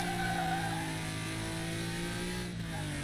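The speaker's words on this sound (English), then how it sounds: "Oh, the engine sounded so much better." Downloadable-content BMW M3 in a racing video game, its engine droning loud and steady under hard throttle with tonal harmonics, the pitch holding then briefly dipping near the end as if shifting gear.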